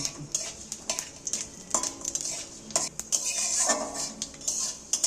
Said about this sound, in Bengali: গোটা পাতে পাঁচ ফোড়ন এইটার মধ্যে আমি একটু সর্ষের তেল ব্যবহার করছি এক চামচের মতো দিয়েছি এবার এইটাকে ভেজে নেব